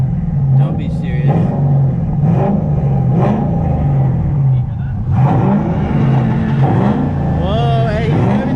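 A 2010 Mustang GT with added horsepower mods revs repeatedly nearby, deep rumbling bursts rising and falling over several seconds while people talk excitedly over the engine.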